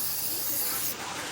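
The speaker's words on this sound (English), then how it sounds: "you can just go ahead and spray it with some brake clean" Brake cleaner sprays onto a trailer brake rotor in a continuous close, loud aerosol hiss that holds steady for about a second before easing slightly.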